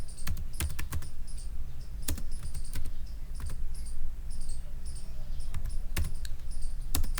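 Computer keyboard typing while coding in PyCharm, irregular clusters of sharp key clicks, close and distinct over a quiet low hum.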